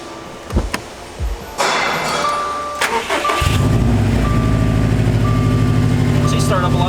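A 2017 Subaru STI with a freshly installed intake and intercooler cranks and fires up, settling into a loud, steady idle with chimes sounding, and voices talk briefly beforehand.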